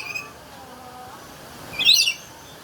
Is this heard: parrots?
yes